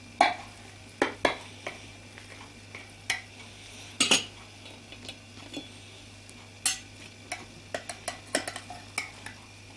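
A knife and utensil cutting and lifting a baked zucchini casserole fresh from the oven: sharp metallic clinks and scrapes against the dish at irregular intervals, close by, over a low steady hum.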